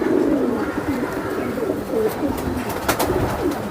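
An Afsan grizzle racing pigeon coos nearby in low, rolling murmurs that repeat through the moment, with some background rustle and faint human sounds.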